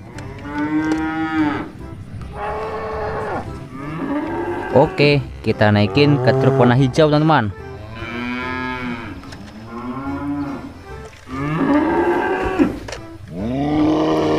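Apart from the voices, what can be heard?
cows mooing while being loaded onto trucks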